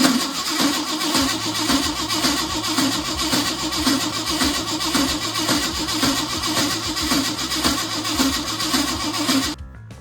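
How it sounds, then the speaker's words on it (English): A 1971 Ford wrecker tow truck with a carburetor engine cranks steadily and loudly for almost ten seconds in a rhythmic churn, then cuts off abruptly at the end. "It'll take a few cranks to get the fuel up from the gas tank to the fuel pump and into the carburetor."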